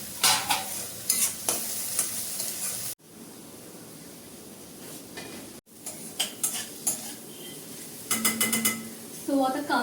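Onion, ginger-garlic paste, tomato and green chili sizzle in a pan while a spoon stirs and scrapes against the metal in bursts, with a quieter steady frying hiss in between.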